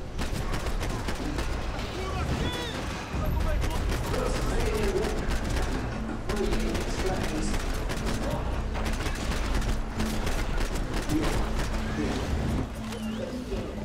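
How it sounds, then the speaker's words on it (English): Gunfire in Max Payne 3 during a close-quarters firefight, heard as continuous dense rapid shots across the whole stretch, with a player's voice talking over it. "where am I getting shot from?"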